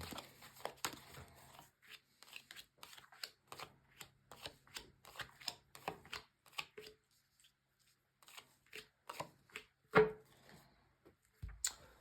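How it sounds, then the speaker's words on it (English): Tarot cards are shuffled in quick riffling bursts, a crisp papery flutter repeated many times with brief pauses, close and fairly quiet. "So just going to shuffle the cards"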